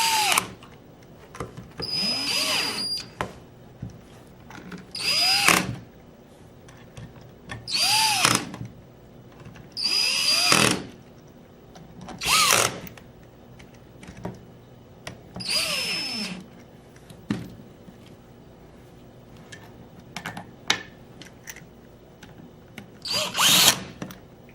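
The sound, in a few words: cordless drill tightening bolts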